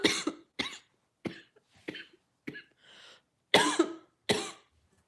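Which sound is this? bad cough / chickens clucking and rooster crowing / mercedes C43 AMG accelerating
bad cough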